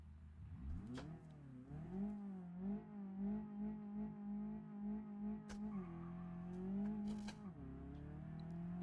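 Car engine in the BeamNG video game revs steadily on a drag strip, its droning pitch climbing and dipping through gear shifts, with a rough shift partway and a sharp burst near the end.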